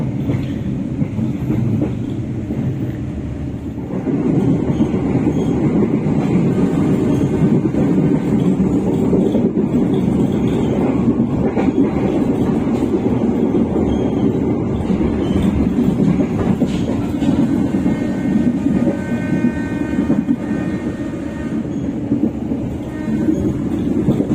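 A commuter train runs on rails near Jakarta, producing a loud, continuous rumble and wheel clatter that swells slightly and holds steady throughout, with no talking.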